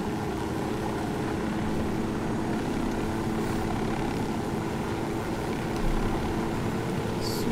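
A helicopter in the video game Ghost Recon Wildlands drones in a steady, loud engine and rotor roar that holds throughout with no speech over it.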